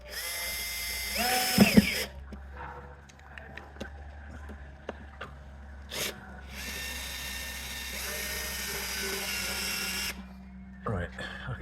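A power drill drives a screw through a wood block fixed behind the pulley hole of a sash window, with a high whirring run near the start and another long one later, while people talk between them.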